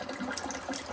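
Water runs steadily from a newly installed kitchen faucet with a charcoal filter, a continuous close splashing hiss into the sink with no pauses.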